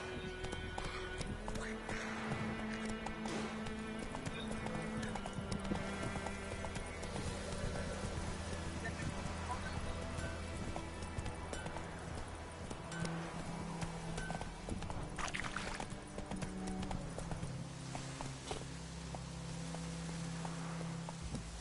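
The horse Roach gallops in a PS4 video game, its rhythmic hoofbeats pounding steadily under layered game music and ambient effects.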